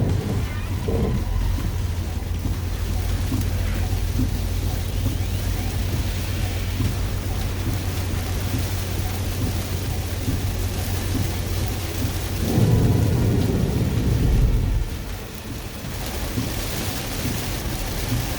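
Heavy storm rain pours steadily with a dense, continuous roar, several inches flooding the road, and low rumbling swells briefly near the end before easing off.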